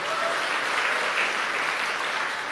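A church congregation claps together in a dense, steady wash of applause that fills the room evenly and stays loud throughout without a break.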